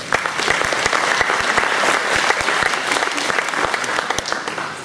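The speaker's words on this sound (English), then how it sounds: "Ladies and gentlemen, please give them a round of applause" Sustained applause from an audience at a Vedanta Centre gathering in Brisbane, dense overlapping claps with a few sharper individual hand strikes standing out, steady and fairly loud throughout before easing slightly at the end.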